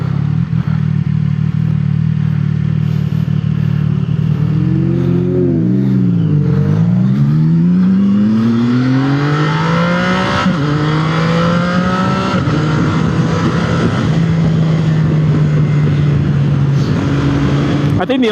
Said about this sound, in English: there's a lot of fast cars coming through here